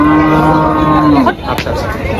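Cattle at a busy livestock market in Faridpur let out one long, loud, close moo that breaks off, followed by brief market bustle.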